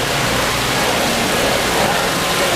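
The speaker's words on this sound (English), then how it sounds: "Look at the waterfall." Indoor waterfall inside a two-story Bass Pro store, a loud, steady broadband rush of falling water filling the space evenly, with no pauses.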